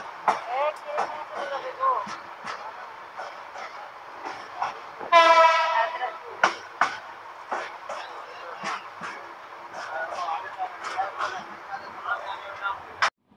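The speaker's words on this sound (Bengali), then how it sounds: "এইমাত্র ট্রেনটি চট্টগ্রাম ঢুকছে।" The Porjatak Express, train 816, rolls into Chattogram station with a clattering rumble and sounds one loud horn blast partway through, while someone talks over it almost the whole time.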